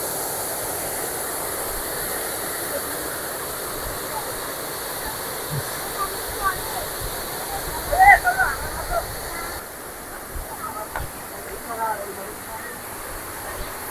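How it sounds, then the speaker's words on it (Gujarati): Water pouring nonstop down a small fall in the stream at the old Khodiyar Mata shrine, a steady rushing hiss throughout with a few faint bumps and quiet voices near the middle. "પાણી નોન સ્ટોપ ચાલુ જ હોય અહીંયા."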